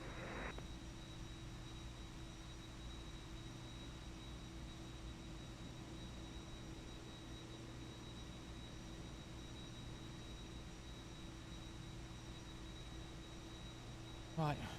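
Superjet airliner in a flight simulator game holding a steady, even jet engine drone with a constant whine throughout, faint brief radio-like chatter at the very start and end.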